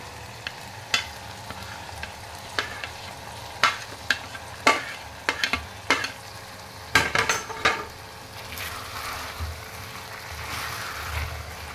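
Okra tossed into hot oil with tomato, onion paste and ginger-garlic paste sizzles in a pan under steady frying noise, with scattered sharp clinks and scrapes of a spoon stirring against the pan.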